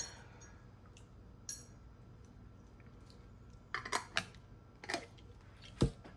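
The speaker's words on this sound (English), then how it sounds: "Let's just rinse off our brush." A paintbrush is rinsed in a glass water jar, giving a handful of sharp, light clinks at irregular moments against a quiet, steady room background.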